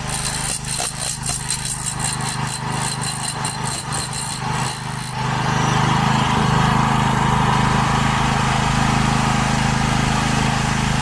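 A loud motor runs with rapid rhythmic knocking at first, then settles into a steady, even engine roar like heavy drilling machinery nearby.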